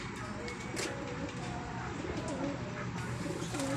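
Soft, low pigeon coos repeat a few times against a quiet outdoor background, fairly close but gentle.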